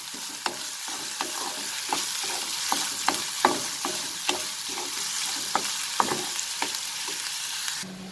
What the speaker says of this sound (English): now I will saute this together till the onion becomes slightly translucent